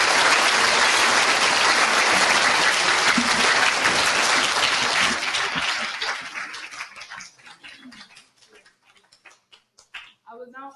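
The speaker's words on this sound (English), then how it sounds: "They deserve a round of applause." A school assembly audience gives loud, dense applause at an end-of-term gathering. It is sustained for several seconds, then thins out into scattered claps and fades to near quiet.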